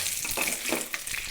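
Crushed garlic, ginger and curry leaves fry in a pan while being stirred, a brief close sizzle with soft scraping strokes, no talking.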